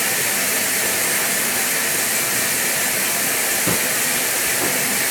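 Water gushes from a tub faucet turned on high, a steady, loud, close broadband rush with no break, a faint knock partway through.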